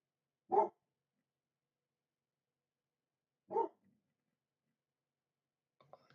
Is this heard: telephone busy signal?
no